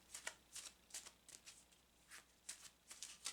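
Quiet, faint riffling bursts of tarot cards being shuffled, a quick series of soft papery flicks repeating in irregular clusters.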